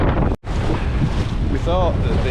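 A boat pounds through rough Atlantic waves off Portugal, with a loud, steady roar of wind buffeting the microphone and engine and water noise, a brief dropout early on and faint voices in the din.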